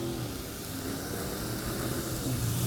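Garlic sizzles in oil on a side burner at an outdoor off-road event, a steady soft hiss of frying heard alone at close range.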